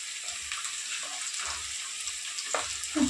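Green chillies and curry leaves frying in hot oil give a steady hiss with soft crackles and a few faint clinks, close and moderate in volume.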